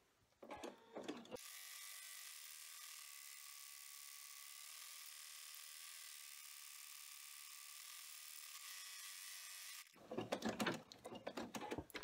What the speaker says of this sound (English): we're going to go back to the machine and it's going to run the satin edge, the zigzag, and then the satin edge around here